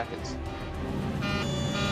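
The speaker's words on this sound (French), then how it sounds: "L'alarme de configuration est tellement forte qu'on n'entend presque plus les voix des pilotes" An aircraft's takeoff configuration warning alarm blares continuously in the cockpit of LAPA Flight 3142, a loud repeating electronic tone with voices beneath it.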